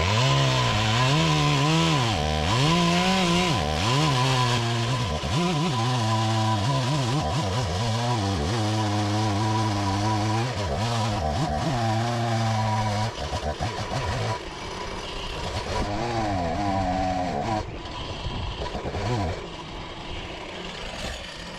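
Chainsaw cutting through the trunk of a huge ash tree during a felling cut, running loud and close with steady revving, the engine pitch rising and falling as the bar bites, then easing off toward the end.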